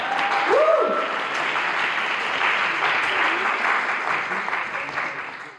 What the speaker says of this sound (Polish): Duża brawa!